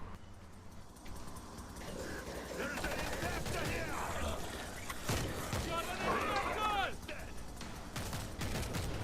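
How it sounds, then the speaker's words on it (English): Gunfire near a river in the zombie shooter World War Z, a dense, steady stream of shots and bursts at moderate distance, layered with game effects and sustained combat noise throughout. "We're hearing gunfire from the river."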